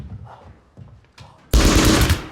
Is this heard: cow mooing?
no